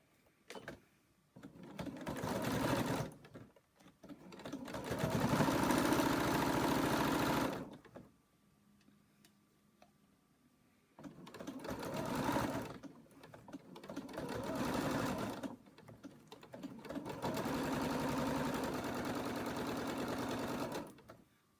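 A sewing machine stitches a zipper pouch, sewing the lining, outer fabric and zip together in one pass. It whirs in several steady bursts of a few seconds each, separated by pauses.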